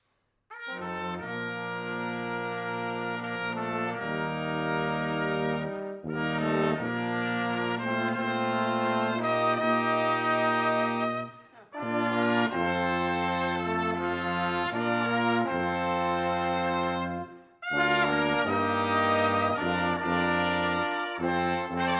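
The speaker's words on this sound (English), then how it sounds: "Now, the classical brass quintet sounds a bit like this." A small brass ensemble plays sustained harmonized chords in phrases, with brief pauses between sections; no talking.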